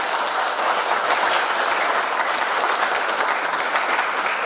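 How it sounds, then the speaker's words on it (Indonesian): Sustained applause rings out from an audience at an oil and gas training closing ceremony in Teluk Bintuni, a dense, even clapping that fills the whole stretch without a break. "Kita beri aplaus yang meriah"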